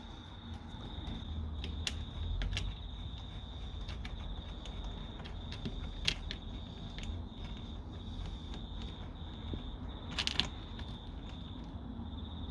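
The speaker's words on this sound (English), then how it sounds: "So get your hex bit or your Allen key out and just start undoing them." Allen key turning 4mm hex bolts on a Lotus Exige V6 during an air filter install, giving sparse small metallic clicks and ticks over a steady, close background hum.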